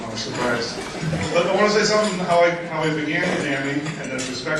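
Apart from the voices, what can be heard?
No everyday noise stands out behind the speech.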